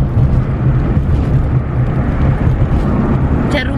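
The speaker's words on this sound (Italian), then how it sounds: "c'è il rumore delle buche" Car interior road noise from a car driving over a potholed road, a steady low rumble with uneven knocks and bumps throughout, close and fairly loud.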